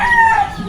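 A rooster crows nearby in a rural yard, one loud drawn-out call that rises and trails off, with no talk over it.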